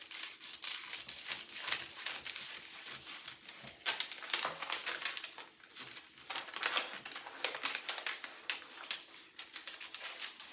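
Scissors cut through fabric for a drape dress, producing soft crinkly snips and rustling bursts in an uneven rhythm, quiet and close, with no voices.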